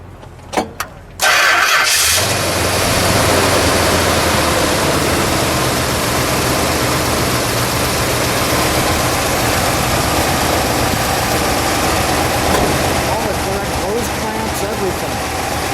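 An unrestored, largely original 1971 Dodge Charger R/T in dark green with a 426 Hemi engine cranks, fires up and settles into a loud, steady, rumbling idle heard up close.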